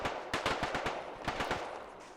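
Rapid bursts of video game machine gun fire rattle out in two quick volleys, loud and dense, over a constant background roar.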